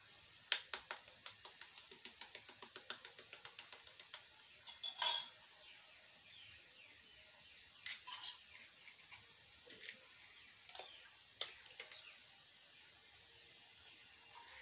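Three eggs beaten with a utensil in a bowl for Bengali-style egg bhurji, a fast run of light clinking taps followed by scattered louder knocks, faint and close.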